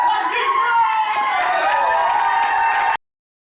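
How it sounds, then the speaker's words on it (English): An improv theatre audience bursts into a loud, sustained round of applause mixed with cheering and whoops, a dense wash of clapping lasting about three seconds before stopping abruptly. "A loud, excessive, almost unwarranted round of applause on the count of 3"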